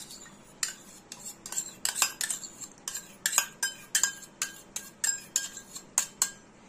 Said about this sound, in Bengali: এখানে দুধটা ঢেলে দিয়ে ভালো করে মিশিয়ে নেব